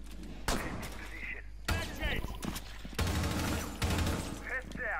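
Video game bandit firing a gun, several sharp loud shots and short bursts spaced across a few seconds, with people talking over the gunfire.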